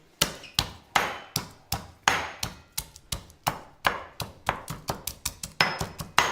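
Unpeeled garlic cloves, lemon zest and rosemary are pounded in a pestle and mortar, a steady run of close, sharp thuds at about three strikes per second, with no talking.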